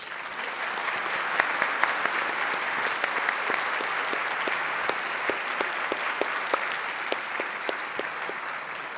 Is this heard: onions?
no